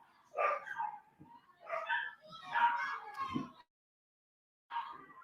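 Dogs fighting upstairs, heard as bursts of muffled barking, yipping and whimpering from another room, with a gap of silence before one more short burst.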